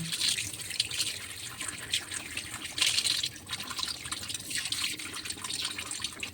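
Water pours steadily from an open tap while squid and pomfret are cleaned under it, a continuous hissing splash with small fluctuations and no voices.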